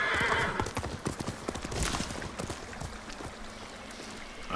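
A horse in Ghost of Tsushima trots with clear rhythmic hoofbeats and lets out a whinny near the start, close and fairly loud over light outdoor game ambience.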